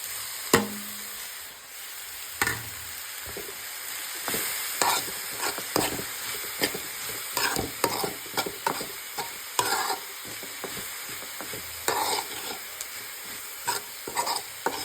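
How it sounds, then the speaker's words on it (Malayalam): Repeated scraping strokes of a spatula in a pan stir-frying banana flower with coconut, turmeric and salt over a steady sizzle, with sharp clacks against the metal. "നന്നായിട്ടൊന്ന് ഇളക്കി കൊടുക്കുക"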